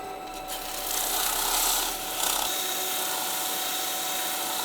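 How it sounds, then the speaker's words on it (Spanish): Sandpaper wrapped in the slot of a rod scrubs the inside of a machined metal part, making a steady, close rasping rub that swells and eases for several seconds with no talk. "Esta varilla le hice un corte y ahí pongo la lija y me sirve para lijar interiores"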